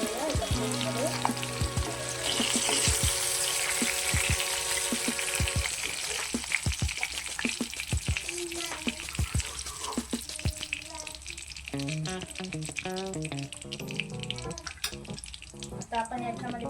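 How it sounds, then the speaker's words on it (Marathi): Chilies frying in hot oil for paneer tikka masala, giving a dense, crackling sizzle with rapid popping bursts that stays close and steady throughout, with no voices. "मिरची चांगली आता फ्राय झालेली आहे"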